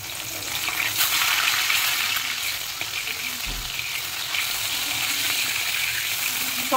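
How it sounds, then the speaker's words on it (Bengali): Fish fries in a pan, giving a steady, fairly loud hissing sizzle with light crackle throughout and no talking. "চল মাছ টাছ ভেজে নি ফটাফট।"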